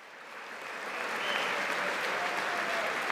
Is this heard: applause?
yes